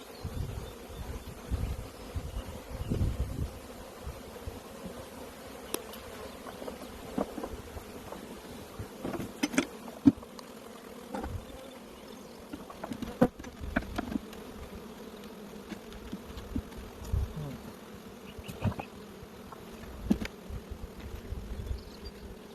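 Spring honey bees buzz steadily around open single-story hives in Michigan, a dense continuous droning swarm close by with occasional louder passes, no voices.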